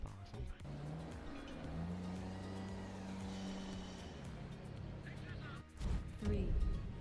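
A racing car engine in a video game race, a sustained revving drone with shifting pitch and tyre squeal, followed by sharper bursts near the end.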